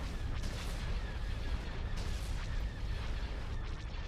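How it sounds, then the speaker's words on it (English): Laser cannons fire in a Star Wars space battle from the Thrawn's Revenge 3.2 mod for a strategy game: a dense, continuous barrage of booming, crackling blasts with sharp bursts layered throughout, loud and unbroken. "Charge laser cannons."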